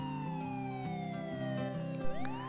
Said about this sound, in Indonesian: kamu akan mendengar suara sirine yang konstan dari tempat kamu berdiri